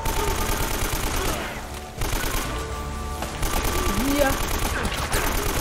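Rapid bursts of gunfire in the video game Uncharted: Drake's Fortune, dense and continuous across the clip, with a loud, busy mix of shots and effects and a brief dip partway through.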